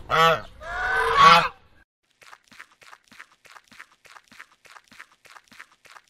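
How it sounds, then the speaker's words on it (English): A goose lets out two loud, close honks, followed by a soft, steady series of light footsteps. "Goose."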